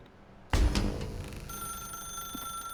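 A telephone rings in The Stanley Parable video game, starting with a sharp loud onset and continuing as a steady bright electronic ring, with no talking.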